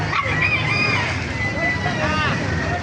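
Bantam chickens and other poultry at a busy animal market, with short clucks and calls rising over a constant crowd murmur and background bustle.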